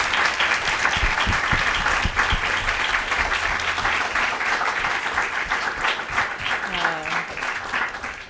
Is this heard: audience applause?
yes